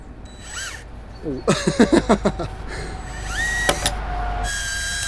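Ratcheting, whirring screw-driving bursts from a cordless driver as a screw is driven upward from below into a terrace roof frame, a quick rhythmic series of close, loud pulses mixed with workshop clatter and brief talk.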